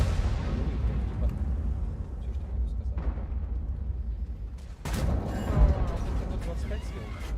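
A tank cannon firing in World of Tanks gives a heavy booming blast with a long rumbling decay, then a second sharp blast a few seconds later, loud and close.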